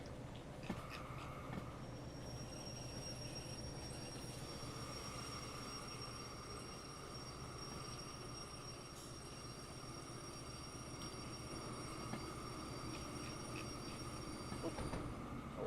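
A train locomotive in the Derail Valley video game keeps rolling with a steady, continuous rail rumble and faint, drawn-out wheel squeal, with no talk over it.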